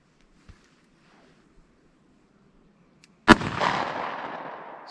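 A single sharp, loud gunshot from a .44 Special firing a Speer Gold Dot 200 grain jacketed hollow point cracks after near silence and a few faint clicks, then rolls off in a long fading outdoor echo.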